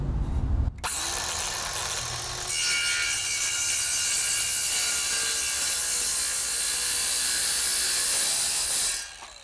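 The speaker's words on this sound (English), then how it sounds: "And that is how you cut a piece of 2x4." A RYOBI power saw cuts through a piece of 2x4 wood with a loud, steady whine and rasp that runs for about eight seconds before stopping, after a brief click at the start.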